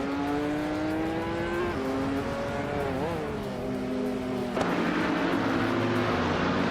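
A 2018 KTM X-Bow GT4 race car in a racing game revs hard through the gears, its engine pitch climbing steadily, dropping at each shift, then rising again, loud and close.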